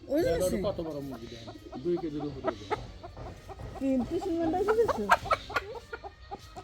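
Chickens cluck and squawk close by in a busy, continuous jumble, with people talking over the birds throughout.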